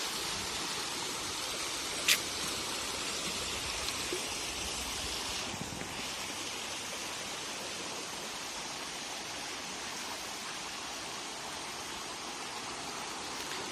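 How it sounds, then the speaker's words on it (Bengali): Steady rushing of the Shoiloprapat waterfall in Bandarban, a continuous broadband roar of falling water heard up close, with one sharp click early on and no voices. "পানিগুলো গড়গড়ায় নিচের দিকে চলে যাচ্ছে"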